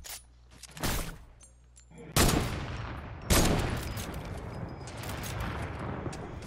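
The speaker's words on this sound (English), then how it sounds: "Yeah, we're getting shot at." Gunfire in the Fortnite battle royale game: several sharp, loud shots and bursts crack out in quick succession, each trailing into a rumbling decay, with the fight noise continuing throughout.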